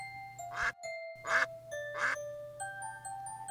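Three short nasal quacks spaced evenly over a quiet background with steady tonal hums, like a young duck calling.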